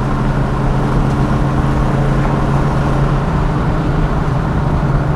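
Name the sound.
Ford Mustang V8 exhaust, BBK headers, Flowmaster catback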